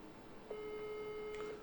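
A single steady electronic telephone line tone sounds for about a second after a call drops, faint and alone.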